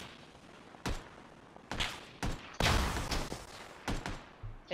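Rifle shots crack out in PUBG, about seven separate reports spaced irregularly, one heavier burst near the middle, mid-distance and sharp against a quiet background.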